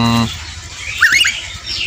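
A male Javan myna gives a short burst of harsh, squawky chattering calls around the one-second mark, preceded by a brief tonal hum and faint background noise.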